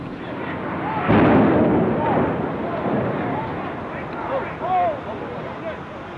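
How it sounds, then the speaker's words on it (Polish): An explosion in New York on September 11, 2001 lands as a sudden heavy boom followed by a lingering broad rumble, with voices talking over it afterward. "Boże, to była potworna eksplozja."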